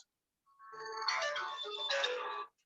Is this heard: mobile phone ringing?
yes